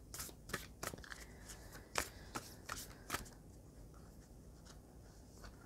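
Animal spirit cards are shuffled in quick, quiet riffling bursts, a few crisp flurries close by, then softer handling as the deck settles.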